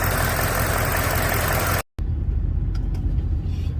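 A Lincoln 5.0 V8 with a ticking fault idles steadily after a dose of Liqui Moly additive, a loud continuous rumble broken by a brief dropout, then resuming as a quieter, even idle.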